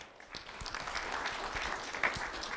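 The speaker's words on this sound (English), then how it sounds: "Round of applause, everyone, for Elle Spiel." Audience applause at a Lee County Sheriff's Office school recognition ceremony, honoring a second grader; a moderate crowd claps steadily for about two and a half seconds with a few sharper individual claps, no one speaking.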